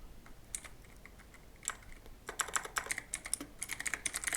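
Fingers tap a computer keyboard, starting with scattered single keystrokes and building into a fast, crisp run of close clicks.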